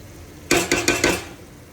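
Tomatoes stirred in a cooking pot for biryani, four quick scraping, clattering strokes in a row that stand out clearly with no voices.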